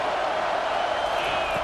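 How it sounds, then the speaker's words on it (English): Football stadium crowd in EA Sports College Football 25 roaring steadily on a third-down defensive stand, a dense continuous wall of noise at even loudness with no single voice standing out. "Decibels rising as the crowd gets behind this defense on 3rd down."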